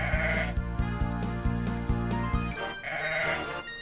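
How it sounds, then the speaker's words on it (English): Baby goat bleating in the Sakura Wars: So Long, My Love video game, a few wavering bleats heard over looping game music with a steady thumping beat. "Oh, that's just a baby goat."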